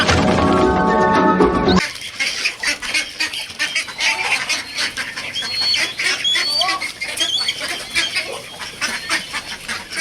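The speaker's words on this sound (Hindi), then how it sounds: "जो नीचे गिर रही है वो हमारी डक्स लड़ने लगी हुई है उस कलेजी के लिए।" Loud honking and squawking from a flock of ducks fighting over dropped liver, a busy overlapping clamor after a brief harmonic noise at the start, with no talking.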